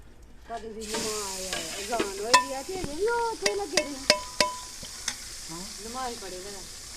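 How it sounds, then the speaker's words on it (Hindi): Green chillies sizzle in hot oil with garlic-ginger paste while cooking village-style sarson ka saag, a steady close frying hiss with sharp spatters and stirring, under someone talking. "और इसमें डालेंगे हरी मिर्चें। तो हरी मिर्चें जो है वो शामिल करेंगे।"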